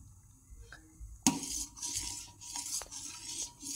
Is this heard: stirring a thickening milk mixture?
yes